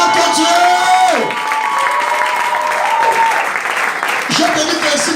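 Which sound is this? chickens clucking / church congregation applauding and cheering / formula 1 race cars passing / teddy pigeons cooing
church congregation applauding and cheering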